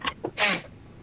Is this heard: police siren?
no